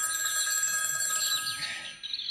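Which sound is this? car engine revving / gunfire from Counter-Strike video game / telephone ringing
telephone ringing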